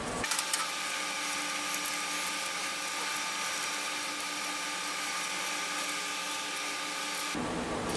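A Case toothpick pocketknife blade is polished on a motorized buffing wheel, giving a steady, loud whirring grind that runs continuously at an even level before cutting off near the end.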